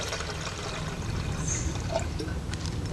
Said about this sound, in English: Next you add your water into the billy.